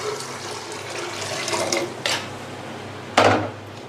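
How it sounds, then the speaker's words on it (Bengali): Water splashes into a pressure cooker holding chotpoti ingredients seasoned with turmeric powder and salt, set for boiling. A few short pouring gushes come close and clear against a faint steady background, with the loudest splash near the end. "এখন আমি সেদ্ধ হওয়ার জন্য দিয়ে দিচ্ছি পানি।"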